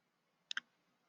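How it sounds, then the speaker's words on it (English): Two quick mouse clicks in close succession, crisp and near, pressing the OK button in a spreadsheet data validation dialog, with a quiet background. "So highlight the source and you click OK."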